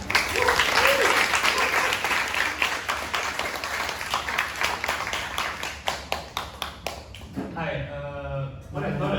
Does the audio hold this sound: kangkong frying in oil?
no